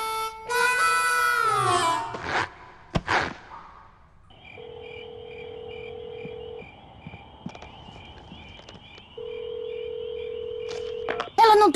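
A cellphone being dialed in a cartoon: a brief whistling sweep, then a sequence of electronic dialing tones and a long ringing pattern, mostly alone and fairly faint.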